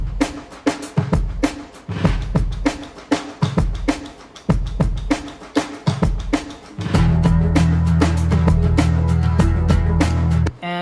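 Snare percussion plays together with a full drum kit, punchy rhythmic hits with deep low thumps, then a dense sustained low-heavy section from about seven seconds until a sudden stop near the end.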